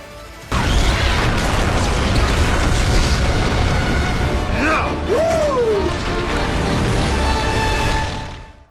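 A bridge is blown up in the action film The Expendables 2, a loud sustained explosive roar with crashing debris that fills the scene and then fades out at the end, with film sound effects layered over it.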